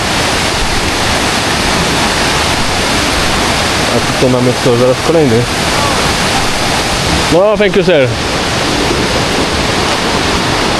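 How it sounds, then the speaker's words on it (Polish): A loud, constant roar of a waterfall in a jungle fills the scene, with brief talking from two people partway through. "A tutaj mamy kolejny wodospad."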